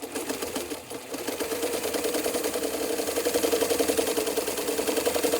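Sewing machine stitching bias tubing with a small stitch, a close, steady, rapid mechanical whir that speeds up slightly and runs without a break.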